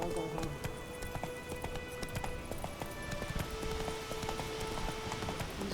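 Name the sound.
horse galloping in video game The Witcher 3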